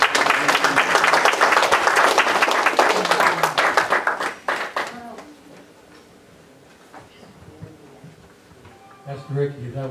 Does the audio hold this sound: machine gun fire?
no